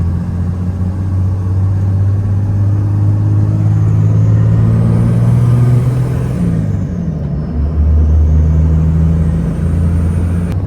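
A 2nd gen Cummins diesel truck drives along, its engine a loud, steady low rumble heard from inside the cab, the drone shifting pitch slightly as it pulls, with no talking.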